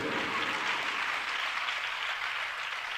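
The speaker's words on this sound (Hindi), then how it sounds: "फिर भी ताली तो बज ही रही है" Audience clapping at a Jain spiritual discourse by Samaysagar ji Maharaj, a steady, moderately quiet patter of many hands that fades slightly over a few seconds.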